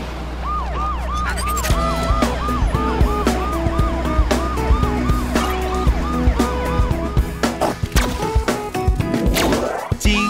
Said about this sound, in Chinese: 警车，警车，滴滴呜